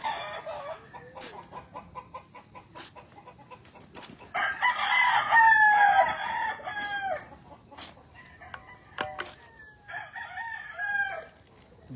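Rooster crowing loudly in the middle of a farmyard scene, with hungry chickens clucking repeatedly throughout before and after the crow, close by and without talk.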